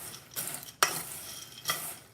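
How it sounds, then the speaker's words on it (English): Toffee bits and chocolate are stirred together in a bowl for cookie dough, giving a few short scraping, rustling strokes, one sharp clink of utensil on bowl, close and without talk. "So I'm just gonna mix those together."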